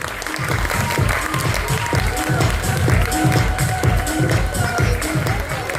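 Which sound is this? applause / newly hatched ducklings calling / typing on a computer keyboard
applause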